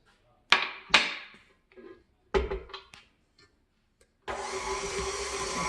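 Electric mixer creaming butter for red velvet cupcakes starts with a steady loud whir in the last second or so, after several sharp knocks and clatters.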